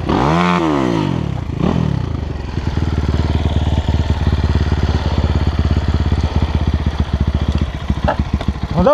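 A motorcycle engine runs steadily at idle with a rough, pulsing rhythm, close and loud. It revs briefly at the start and again near the end, with clattering and scraping handling noises over it.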